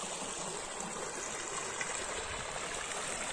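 Clean spring water runs steadily in a stream on a rural property with two springs in Ibaiti, Paraná, a continuous close trickling and gurgling flow with no one talking.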